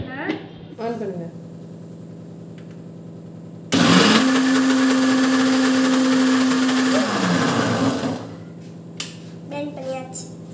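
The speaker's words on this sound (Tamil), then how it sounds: "இப்போ நம்ம மிக்ஸில இதை பெண்ட் பண்ணிக்கலாம்." Electric mixer grinder blending sugar for cupcakes whirs loudly for about four seconds with a steady high motor whine, starting and stopping abruptly, surrounded by quieter moments with background voices.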